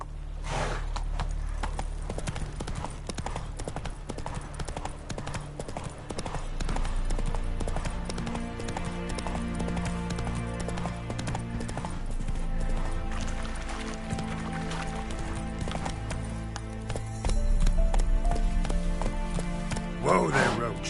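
Roach the horse galloping in The Witcher 3, with quick rhythmic hoofbeats pounding close and steady for the whole stretch, a voice briefly heard in the game.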